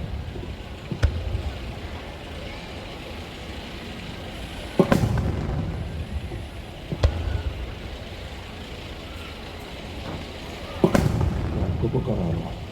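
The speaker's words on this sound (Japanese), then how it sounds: "変わりまして銀という花火。" Silver "gin" fireworks burst at the Nagashima Onsen fireworks show, with several sharp, loud booms spaced a few seconds apart, each trailing into a rumbling echo over a steady outdoor background.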